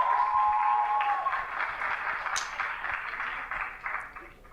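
Modest audience applause for a guest named Bastien at a show, faint and fairly steady, tapering off toward the end, with a brief tonal ring near the start.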